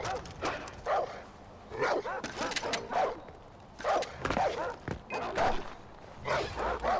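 A dog barks in the video game Far Cry 4 during a fortress battle, giving repeated short yaps in bursts across several seconds. Someone talks between and over the barks.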